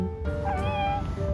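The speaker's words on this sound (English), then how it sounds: "This cat wants to say hello. Let's listen." A single cat meows in a drawn-out, rising and falling call lasting about a second, close and clear over a steady low background hum.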